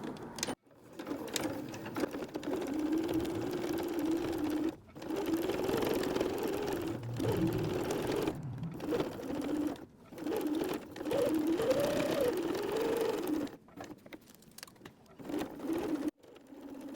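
Sewing machine stitching purple plush llama fabric along a quarter-inch seam, a steady close whirring hum running in long bursts with brief pauses between passes.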